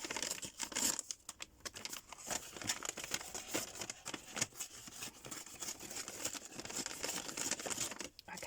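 Recycled packaging paper torn by hand in a continuous run of crinkly ripping and crumpling, fairly close and steady, with short pauses between pulls.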